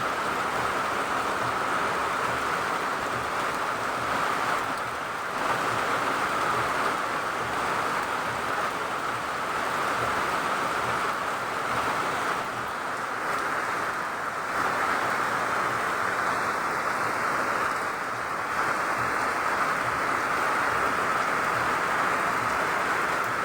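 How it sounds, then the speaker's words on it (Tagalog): Sudden heavy rain in Bicol pours down steadily for the whole stretch, a dense, even hiss of drops on surfaces with no break and no voices. "init ng panahon ngayon biglang umulan oh"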